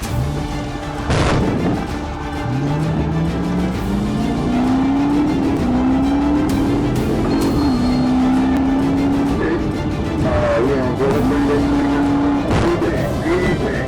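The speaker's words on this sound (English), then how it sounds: "The SUV tore through dense traffic, cutting across lanes and nearly colliding with oncoming cars." An SUV races through dense traffic during a police chase, its engine revving up and down in rising surges with a screech near the start. A narrator's voice runs over the vehicle noise throughout.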